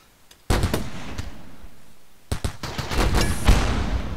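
Gunfire in the video game RimWorld during a colony defense: a sudden loud shot followed by a rapid volley of cracks and booms, with a lingering rumble between bursts.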